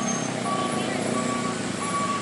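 A heavy truck labours up the steep Gentong climb in Tasikmalaya, West Java, during peak return-trip traffic: a steady, dense engine rumble with intermittent high beeping tones over it.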